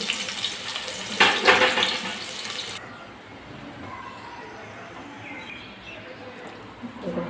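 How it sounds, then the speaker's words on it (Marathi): Chopped onions fry in plenty of oil for a prawn biryani, a hissing sizzle that flares loudly near the start and then settles into a quieter steady crackle. "थोडे कांदे 2 कांदे घेतले, ते चिरून जरा त्याला तळून घेणार आहे."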